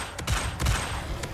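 The Descendo spell is cast in the Hogwarts Legacy video game. Two quick heavy impacts thud low and close, with a sharp high crackle, inside a dense game soundscape.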